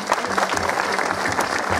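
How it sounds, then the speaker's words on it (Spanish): Audience applause at a village folk festival in San Andrés, a dense, steady burst of clapping from a crowd, fairly loud and close, filling the whole short moment without speech. "a Luis, Rodrigo, Víctor, Carlos, un aplauso para ellos, por favor."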